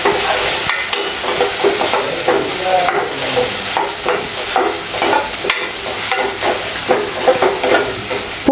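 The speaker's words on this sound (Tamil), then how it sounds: "இப்போ இது எல்லாத்தையுமே நல்லா வதக்கிக்கலாம்." Ginger, green chillies and garlic sizzle steadily in a hot pan while a spoon stirs them, the frying hiss continuous and close with rhythmic scraping throughout.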